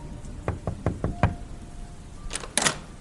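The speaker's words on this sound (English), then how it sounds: "I pulled into his driveway and knocked on his door" Several firm knocks on a door, a quick series of raps, then a pause followed by a couple of brighter clattering sounds.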